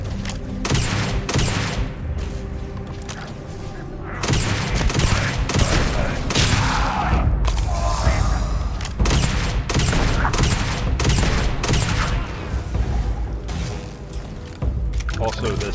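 Weapon gunfire in the sci-fi video game Starfield, heard as dense rapid volleys of shots and impacts that continue throughout, loud and busy, with game effects layered underneath.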